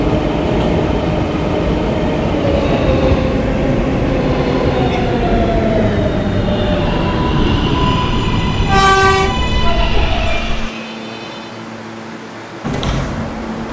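An R143 R local subway train on the New York City subway runs loud and steady throughout, with rising motor whine, a bright chime-like tone sequence near the end, then a brief drop and resumption of rumble.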